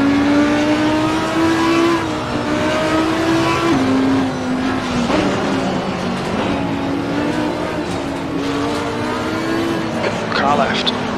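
Audi R8 LMS GT4 race car engines in Assetto Corsa Competizione, a steady loud droning engine note shifting pitch with gear changes and throttle, other cars running close by, with a voice speaking briefly over the racing noise.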